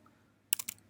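Computer keyboard typing while coding, a quiet pause followed by four quick, sharp key clicks close by, no talk.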